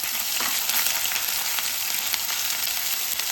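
Green chillies and ginger garlic paste sauté in hot oil in a pan for a mushroom gravy, giving a close, steady sizzle with light crackling and no talk.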